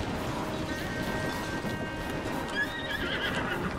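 A horse neighs and whinnies over steady clip-clopping hooves in Zelda: Tears of the Kingdom, near a snowfield stable, with a continuous gallop rhythm and a drawn-out whinny toward the end, moderately loud with no talking.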